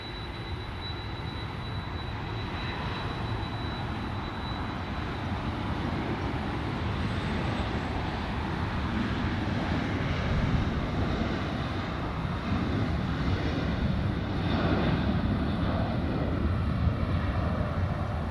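An Alaska Airlines jet takes off at LAX, its engines a broad, steady roar that swells gradually and stays loud throughout, with no voices.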